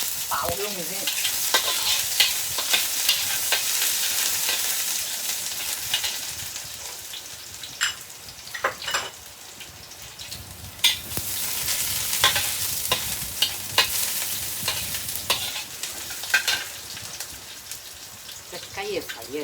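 Ginger and scallions stir-fried in a hot wok, a loud continuous sizzle broken by scraping stirs and sharp clatters of the spatula, with a voice speaking now and then over the cooking.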